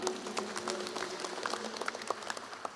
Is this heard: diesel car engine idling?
no